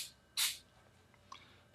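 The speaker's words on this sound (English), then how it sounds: "Then I'm going to get my accelerant and spray on the other end." An aerosol glue accelerant is sprayed onto a model figure part, giving a short close hiss, followed later by faint small handling clicks.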